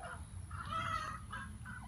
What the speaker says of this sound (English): You hear the chickens in the background.